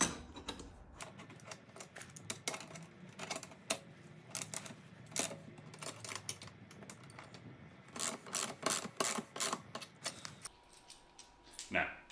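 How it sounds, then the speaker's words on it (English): Socket and adjustable wrench tightening nuts while assembling a Sherpa Power Barrow, close metallic clicks, taps and scraping in irregular bursts over a low background hum. "we'll choose our socket and our adjustable wrench to nip those up so they're nice and tight"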